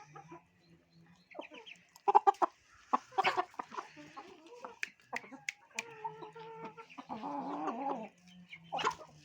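A chicken clucks up close in short, irregular bursts, with a few drawn-out, louder calls near the end.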